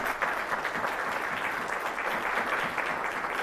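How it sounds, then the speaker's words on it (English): Audience applause at a school board candidate forum in Berkeley County, South Carolina, thanking the organizers, with a full, lively round of clapping that stays steady and close for the whole stretch. "Can we give them a round of applause?"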